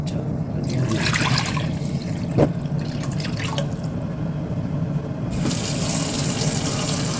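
Tap water runs steadily into a cooking pot being filled for noodles, a continuous splashing rush broken by a couple of brief clinks.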